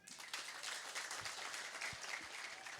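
Church congregation applauding together, a steady broad wash of clapping that fills the short stretch at moderate, fairly distant level with no talk over it.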